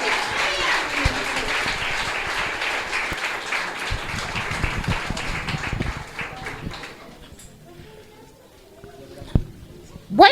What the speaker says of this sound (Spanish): Un fuerte aplauso para el equipo